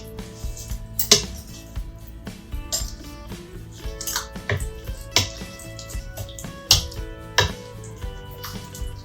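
Corn casserole batter with Monterey Jack and cheddar cheese is stirred in a bowl, giving a regular rhythm of close, wet scraping and clinking roughly once a second, with no voices over it.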